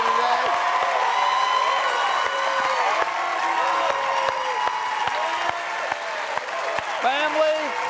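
Game show studio cheering section of family, friends, students and teachers, with clapping, whoops and excited shouts continuing throughout and a presenter's voice speaking over them.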